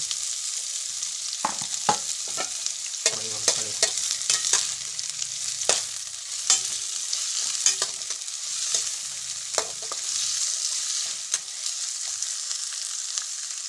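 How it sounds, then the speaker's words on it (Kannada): Green chillies fry in a pan with a continuous close hiss of hot oil, punctuated by frequent sharp scrapes and taps of a spoon stirring against the pan. "ಹಸಿಮೆಣಸಿನಕಾಯಿ ಸ್ವಲ್ಪ ಹಸಿ ವಾಸನೆ ಹೋಗುವವರೆಗೂ ಫ್ರೈ ಮಾಡ್ಕೋಬೇಕು"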